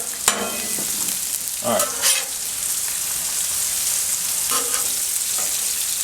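Beef, pork sausage and thin bacon fry on a Blackstone griddle with a constant crackling sizzle, broken by a few scraping stirs of a spatula; a voice says a single brief word.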